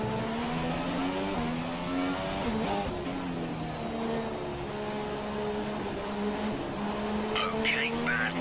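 Simulated F1 race car from the F1 2017 game running with a damaged gearbox, its engine note droning loud and steady with shifting harmonic pitch and brief tire squeal near the end.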